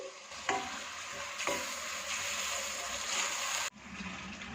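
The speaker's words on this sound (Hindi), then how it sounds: "1 कप पानी थोड़ा थोड़ा करके डालते हुए इसे भूनते जाएंगे।" Tomato masala for green bean and potato sabzi sizzling in a pan as water is added bit by bit, loud hissing with scraping stirs, then a sudden drop and softer frying.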